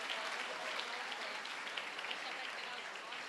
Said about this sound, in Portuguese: Palmas para eles, por favor.